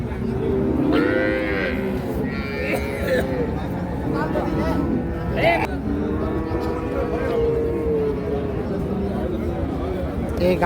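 A dairy cow moos several times nearby at a cattle market, long low bellowing calls rising and falling, with people talking in the background throughout.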